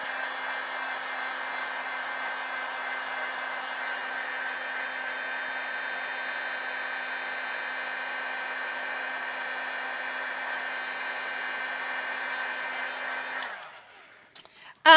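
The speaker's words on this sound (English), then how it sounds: "we're going to heat set this." A heat tool blows a steady, loud whirring rush while heat-setting embossing on a handmade gingerbread Christmas card. The sound runs unbroken for about thirteen seconds and then cuts off abruptly into near silence.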